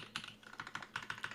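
A Monstargears Classic TKL with aluminum top-mount build, Oolong switches and GMK Birch caps being typed on: about eight distinct, close-miked keypresses, each a sharp clack, spaced fairly evenly with no voice.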